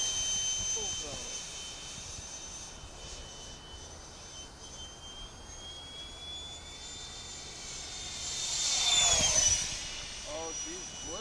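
Freewing P.15 RC jet model run up to full throttle, a steady high-pitched turbine whine that stays loud throughout and swells briefly near the end, with a few voices speaking over it.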